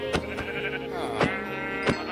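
Sheep bleats in the Minecraft video game, a few short wavering cries over steady game music, with sharp hit sounds between them.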